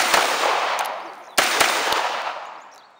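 Two sharp gunshots from a Sig Sauer MPX 9mm carbine pistol, sounding about a second and a half apart, each followed by a loud ringing echo that fades slowly outdoors.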